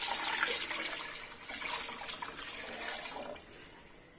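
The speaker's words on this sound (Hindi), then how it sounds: "ये हमने 1 बाउल भर के इसमें पानी का डाल दिया और फिर चम्मच हिला दिया" Water poured from a bowl into a pot of haleem, a broadband splashing rush that starts strong and gradually tapers over a few seconds, close and with no voices.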